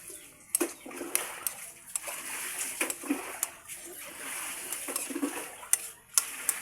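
Coconut milk with bitter gourd stirred in a pot: repeated sharp spoon clinks against the metal rim over soft liquid sloshing, close up, with brief speech between strokes.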